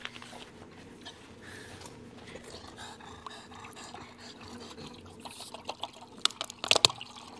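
Water is poured for a dog, a soft trickling and splashing that builds into louder drips and splashes toward the end, with faint background noise.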